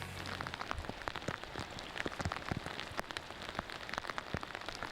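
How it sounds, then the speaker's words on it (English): Rain pours steadily onto cabins on the shore of Pittapalena Fjord, a dense, even patter of drops with sharper individual hits scattered throughout, close and continuous. "watched the rain drench everything for the next 3 days"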